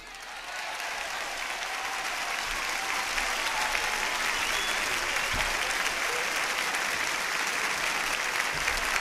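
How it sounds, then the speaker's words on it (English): A large audience applauds steadily, rising quickly at the start and holding a dense, even clapping roar throughout. "how about I have a big round of applause for John Hendricks."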